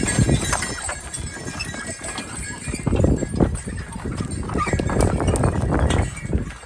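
Working horses in a Carpathian forest clip-clop with irregular hoof knocks on the ground, close and fairly loud against a rustling outdoor background.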